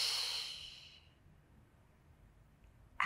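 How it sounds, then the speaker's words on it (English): A single long Pilates exhale, breathy and close, fading out after about a second into near silence. "Exhale."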